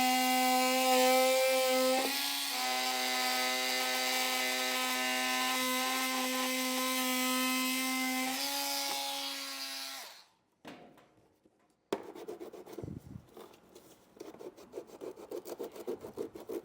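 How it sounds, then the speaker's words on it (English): Oscillating multi-tool cutting through the plastic bumper fascia of a 2021 Volvo XC during a trailer hitch install, a loud steady buzzing whine for about ten seconds that stops abruptly, followed by quieter scraping and handling noises. "I'm just going to use a multi-tool to cut this."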